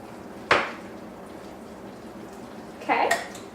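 Cream cheese being mixed into slaw dressing in a bowl, with two distinct clinks of a utensil against the bowl a few seconds apart over a quiet kitchen background.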